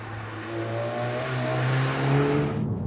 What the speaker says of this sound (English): It takes less than 5 seconds for this car to get to 60, which is quite an achievement.